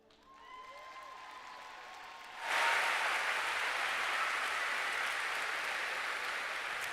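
At a Broken Arrow Public Schools back-to-school kickoff, a large crowd bursts into loud, sustained applause after a fading musical tone, the clapping staying steady and full to the end.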